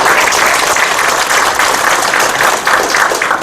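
A large crowd at a Korean Democratic Party farmers' and fishers' rally claps vigorously, a loud, dense and continuous wave of applause with slight rhythmic surges throughout.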